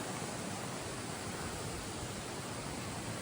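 A mountain creek rushes steadily on a hot summer hike up Hungary Peak, a constant broadband wash of flowing water with no voices.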